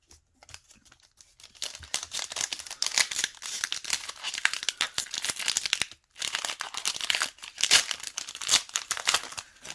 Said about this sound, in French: j'ouvre toujours les boosters comme ça